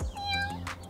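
A kitten stuck up a tree meows once in a high, drawn-out cry, close and clear over a low background hum.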